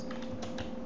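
Typing on a Mac computer keyboard, a quick run of several light key clicks close by, heard alone over a steady background hum.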